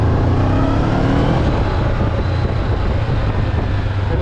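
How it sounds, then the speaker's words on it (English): A Honda 500cc motorcycle engine is given a little gas, producing a steady, loud, close engine drone that rises slightly and holds with no voices over it. "All I'm doing is really just giving her a little bit of gas so you can hear the engine sound"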